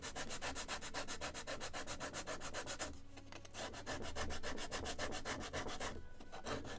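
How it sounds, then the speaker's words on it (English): Steady rhythmic rasping of sandpaper chamfering the edge of a wooden plank for a 1776 gunboat Philadelphia model ship kit, close and continuous with a brief pause midway. "And I will chamfer entire plank on both sides."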